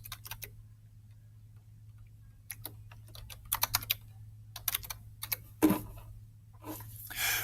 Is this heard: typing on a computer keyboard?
yes